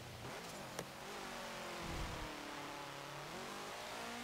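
A 1967 Volkswagen Type 3 1600 L in Forza Motorsport 7 drones steadily at high revs, its engine note rising and falling slightly through the run, with a brief squeal near the middle.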